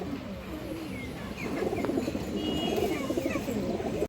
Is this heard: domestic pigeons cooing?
yes